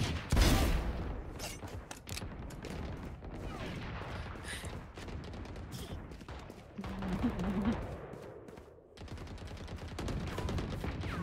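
Gunfire in a video game shootout, with bursts of shots and rapid fire coming in clusters over a busy mix of game sounds, mostly without speech.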